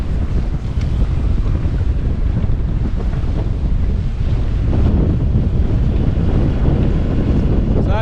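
Force 6 wind roars across the microphone at sea while waves wash and slap against a sailboat near the IJsselmeer, a loud, continuous rushing with no pauses.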